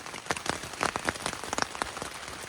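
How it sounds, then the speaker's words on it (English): Heavy rain pelts a tent at a campsite along the Appalachian Trail, a dense, steady patter with sharper individual drops hitting close by, no voices. "it started raining pretty hard"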